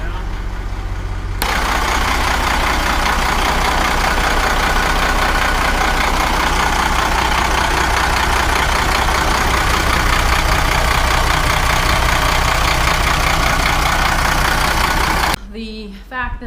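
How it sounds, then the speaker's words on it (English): A Monaco Dynasty motorhome engine, an RV with a leaking hydraulic system, runs loud and close. A steady, dense rumble holds for about fourteen seconds, then cuts off abruptly, with no talk over it. "Just idling it and revving it up."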